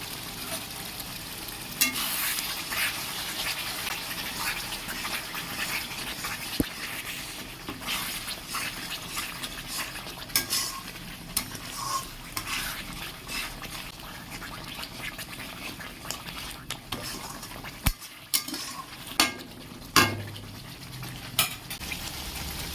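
Chicken kosha fries steadily in a pan with spices, a continuous sizzle running throughout, broken by occasional scrapes and taps of a spoon stirring the pan.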